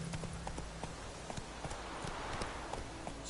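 Horse hooves clip-clop steadily on the ground in the video game The Witcher III, a quick, even rhythm of close hoofbeats over a constant background hiss.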